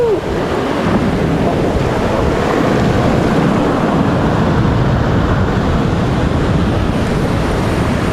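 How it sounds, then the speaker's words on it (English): Ocean surf roars continuously, blended with heavy wind buffeting the microphone, loud and unbroken throughout. "the waves here are just way too crazy"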